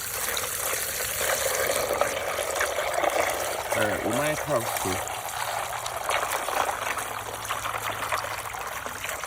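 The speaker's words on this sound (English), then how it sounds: "Ooh, that just sounds delicious with the ice churning around in there." Water pouring into a container packed with ice for cooling chickens, a steady trickling and splashing with ice cubes clinking and churning partway through, while a person speaks briefly over it.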